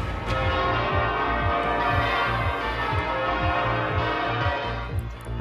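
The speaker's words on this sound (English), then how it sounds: "church bells ring out across the UK" Church bells across the UK ring loudly in a dense, overlapping peal, steady and continuous with no voices present.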